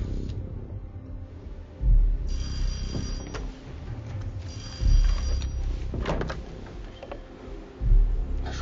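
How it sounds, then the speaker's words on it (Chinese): An old-style telephone bell rings repeatedly and goes unanswered in a tense drama scene, the bursts coming about every three seconds, loud and close, with faint clatter between rings. "白松奇不接电话"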